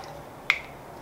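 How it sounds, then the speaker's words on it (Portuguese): A spray bottle mists water onto a watercolor landscape painting in one quick, sharp spritz. The burst is brief and crisp against a quiet room. "já que tá assim, eu vou usar o spray"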